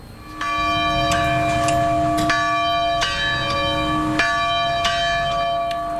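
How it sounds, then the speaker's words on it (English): Church bells toll at St. Philip's Church in Uvalde, Texas, during a memorial moment of silence: several loud, resonant strikes ring out over about six seconds, each with a long sustained hum, and no voices. "the bells tolled"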